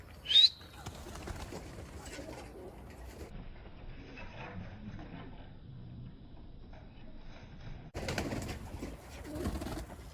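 Tumbler pigeons flying outdoors, soft low cooing and wing flutter under a sharp whistle at the start, with a louder rustling burst near the end.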